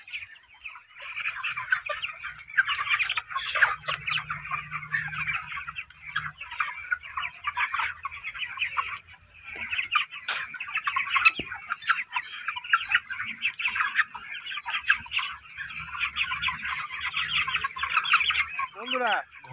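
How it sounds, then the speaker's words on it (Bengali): Chickens cluck and chatter continuously at a poultry farm in rural Nadia, a dense flock noise that stays steady and fairly close throughout, with brief lulls. "আর এই পোলট্রি মুরগির ফার্মটা বন্ধুরা"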